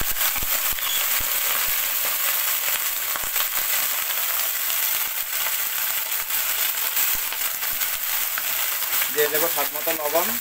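Vegetables go into a pan where dal bori has been fried until reddish, giving a steady broadband sizzle throughout with a brief higher tonal sound near the end.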